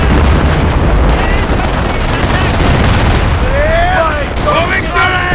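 Dense battlefield gunfire and explosions from the Company of Heroes game, Falaise Pocket mission, loud and continuous with rumbling booms, while voiced soldier callouts sound over the combat.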